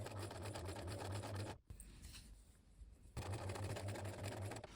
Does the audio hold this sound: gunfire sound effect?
no